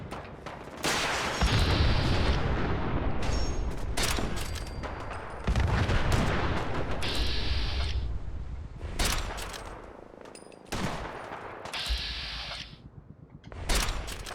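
Gunfire and rocket-launcher explosions in the Fallout 4 video game, with Sim Settlements 2 content: repeated loud blasts and bursts of shots stacked close together with brief lulls, alone without talk.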